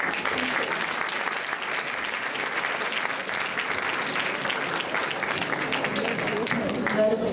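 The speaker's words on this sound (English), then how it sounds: "Let's give a big applause again." Sustained applause from an audience at a charity event in Japan, broad steady clapping filling the whole stretch at an even level, with a faint voice briefly audible underneath near the end.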